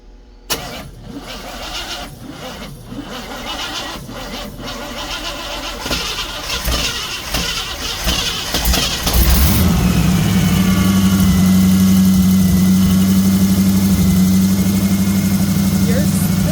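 A 1936 Oldsmobile engine starts with cranking bursts, then catches and settles into a loud, steady idle that continues to the end, with people talking over it.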